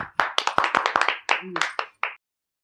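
A small group of people claps hands in a quick burst of sharp, closely spaced claps that lasts about two seconds and then stops abruptly into silence.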